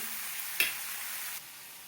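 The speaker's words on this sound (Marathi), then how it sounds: "तेलामध्ये आता कांदा पण घेणार आहे तळून चांगला लाल होईपर्यंत" Onion frying in oil in a pan, a steady soft sizzle with one brief louder clatter partway through before the hiss eases slightly.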